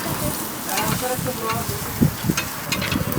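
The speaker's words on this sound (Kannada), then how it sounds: "ಎಣ್ಣೆ ತುಪ್ಪ ಬದಲು ಕೊಬ್ಬಲ್ಲೇ ಬೇಯಿಸೋದು ಅಷ್ಟೇ." Mutton cooking in its own fat on a hot stone gives a steady, moderately loud sizzle and crackle, with faint stirring scrapes and a few soft knocks over a busy background.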